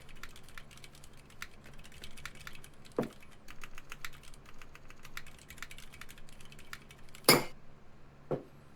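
Typing on a newly built mechanical keyboard fitted with Cherry switches, the keys slightly scratchy from not yet being broken in: steady light clicks and clacks close up, with a few louder bottom-out thocks scattered through.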